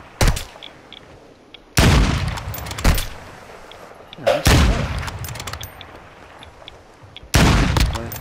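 Call of Duty gunfire coming in separate loud bursts, several sharp volleys spaced a second or more apart, each starting suddenly and trailing off, with quieter ambience between.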